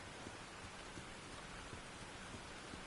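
Steady rain in the video game Tchia, a dense, even hiss of drops on surfaces with faint scattered patters, continuous and unbroken with no voices.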